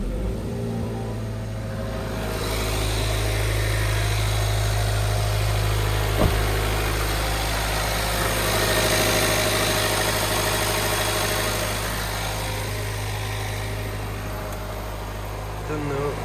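A wrecked and rebuilt Jaguar F-Type's engine cranks with a sharp click and catches, then settles into a steady, low idle that holds close and even, with a voice speaking briefly over the hum.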